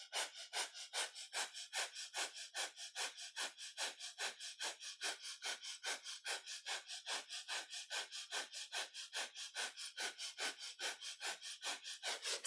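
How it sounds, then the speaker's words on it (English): Breath of fire in kundalini yoga: quick, even, forceful panting breaths through the nose, about two per second, close and fairly quiet, repeating steadily without talk. "Breath of fire is our panting breath through the nose."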